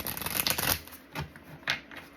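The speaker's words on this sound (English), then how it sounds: "this deck is harder to shuffle" A deck of tarot cards is shuffled at close range, giving several bursts of riffling and rustling card noise in an uneven rhythm, with faint background sound and no talk in between.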